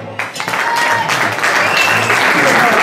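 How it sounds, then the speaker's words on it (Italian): Spectators at a slalom hill-climb car race in Gambarie, Calabria, applaud the drivers with a dense burst of clapping that swells quickly and stays loud, voices mingled in the crowd. "un bel applauso per i nostri protagonisti"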